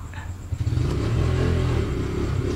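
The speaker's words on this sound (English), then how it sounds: "May motor talaga" A motorcycle engine drones loudly close by as it passes, its low rumble swelling after a brief quieter start and then holding steady.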